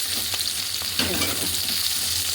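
Potato pieces go into onions already frying in a pan, a loud steady sizzle with a sudden swell of crackling as they hit the oil, up close with no talk.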